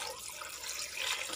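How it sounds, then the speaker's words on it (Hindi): Cold water pours steadily into a blender jar with raw mango, mint and salt for a sharbat, a continuous close splashing rush lasting the whole moment with no voices. "हम इसमें शामिल करेंगे ठंडा पानी"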